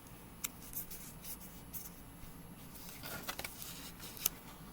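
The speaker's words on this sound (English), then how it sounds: "So I'm going to fold this in half." A paper strip folded in half by hand, heard as soft, quiet rubbing and creasing with a few faint crisp taps and rustles spread across a few seconds.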